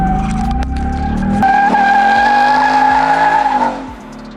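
A Ford Mustang GT with line lock engaged spins its rear tires in a burnout, the engine revving loudly over a sustained, close, piercing tire squeal that fades at the end.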